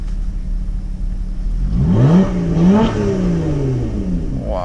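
A 2018 Lotus Evora with a Camry-derived engine revs hard with the open throttle button engaged, climbing through several loud, rising sweeps before settling, with no talking.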